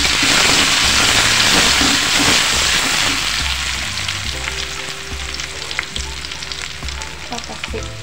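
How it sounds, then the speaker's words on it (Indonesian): Spice paste sautéed in hot vegetable oil for an eggplant in oyster sauce dish, a loud steady sizzle with stirring scrapes that eases slightly partway through, no voices. "Ini udah aku siapkan minyak sayur, ini minyaknya udah panas ya, lalu kita tumis bumbunya"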